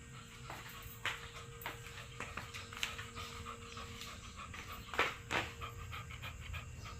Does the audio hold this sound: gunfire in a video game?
no